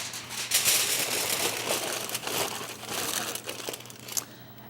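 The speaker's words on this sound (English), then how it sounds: "cover it with foil and let it rest for 30 to 45 minutes" Aluminium foil is crinkled and pressed over a roast turkey to tent it for resting, giving a steady close crackle and crunch with bursts of louder crumpling throughout and no voices.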